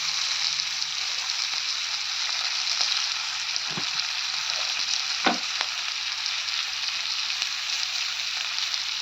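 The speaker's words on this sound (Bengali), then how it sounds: "আর এক চামচ আদা বাটা ভেজে নেব।" Ginger paste frying with spices and coriander powder in a pan, a steady close sizzle throughout with a couple of brief stirring scrapes.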